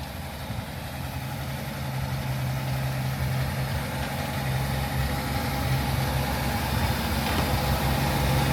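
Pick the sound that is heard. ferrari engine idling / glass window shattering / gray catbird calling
ferrari engine idling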